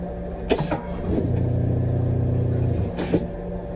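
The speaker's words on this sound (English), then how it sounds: "Why does it sound like that when it flushes?" A coach toilet flushes with two sharp whooshing bursts a few seconds apart, set against a constant low engine rumble and hum while the coach travels.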